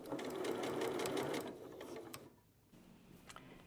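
Sewing machine stitching the hem of a dress at close range, a steady rapid whir for about two seconds that then slows and stops, followed by quiet handling sounds.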